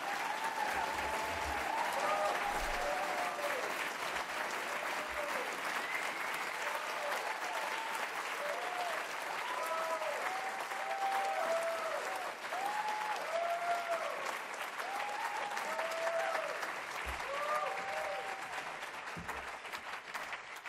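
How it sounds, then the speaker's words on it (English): A fundraiser audience claps steadily and loudly throughout, a dense sustained round of applause from a full room with no speech over it. "So please give a warm round of applause for our first DAG Fellow, Joey Michalakis"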